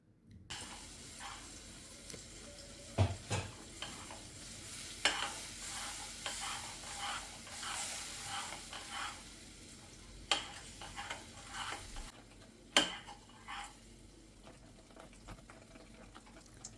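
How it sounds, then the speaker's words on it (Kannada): Cooked rice with mango juice is stirred in a pan, giving soft scraping and scooping strokes with occasional louder clinks of the spoon against the pan over a faint sizzle, with no talking. "ಫುಲ್ ಹಾಕಿ ಸ್ವಲ್ಪ ತಿರುಗಿಸ್ಕೊಂಬಿಡ್ರಿ"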